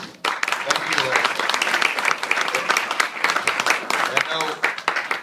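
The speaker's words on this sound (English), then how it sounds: "you're applauding the presentation itself" Audience applause filling a Pecha Kucha presentation event, dense steady clapping from a crowd that starts abruptly and carries on without letup.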